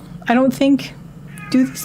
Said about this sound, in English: That was my cat coming in and making a meow.